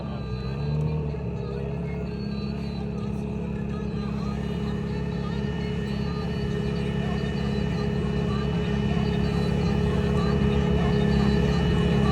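A Subaru WRX drives past during a driving demo at a Subiefest car show in Florida, its engine a steady rumbling drone that swells gradually louder, with crowd voices underneath.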